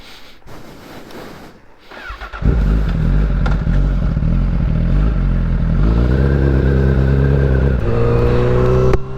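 A Honda CBR1000RR SP1 1000cc sportbike engine fires up after a few seconds of clatter, then settles into a loud, close, steady idle with a deep rumble and a brief rise in revs near the end.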